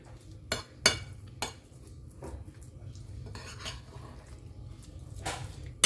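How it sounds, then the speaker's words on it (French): A utensil stirs thick pistachio chocolate paste in a bowl, giving soft scraping swirls broken by a few sharp clinks against the bowl's side, close up and quiet. "je mélange tout"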